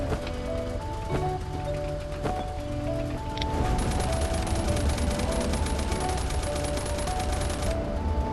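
Gunfire in the survival shooter Last Island of Survival: sharp shots and short bursts crack over a busy game soundscape, fairly faint and mixed with other in-game noise.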